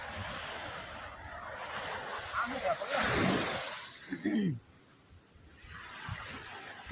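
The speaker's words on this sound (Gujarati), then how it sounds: "દરિયા કાંઠે આવીને દરિયાનો ઘોંઘાટ સાંભળવું બહુ મજા આવે" Sea waves wash onto the shore in broad surging rushes of noise, with wind buffeting the microphone and someone talking briefly between the swells.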